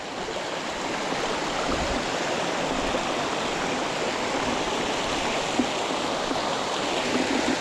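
Constant broadband rush of a river stream flowing over rocks along the Appalachian Trail, close and steady throughout with no pauses and no one talking.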